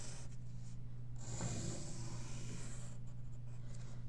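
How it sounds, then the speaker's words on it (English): A pencil moves across a large sheet of brown construction paper, sketching a simple boat. The scratching is soft and steady, with a low hum underneath and no talking. "I got my pencil, I got my large brown piece of construction paper, and I'm going to just draw a random boat"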